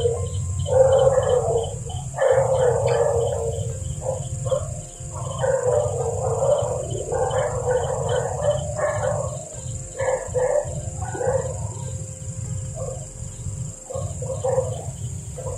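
A dog barks in repeated bursts of several yaps over a steady background of chirping crickets, the barking thinning out toward the end.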